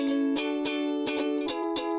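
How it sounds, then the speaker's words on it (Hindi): A guitar plays a short run of plucked, ringing notes in a steady rhythm, clear and close with no voices, as the answer to a cartoon instrument-guessing quiz. "ये गिटार की आवाज है।"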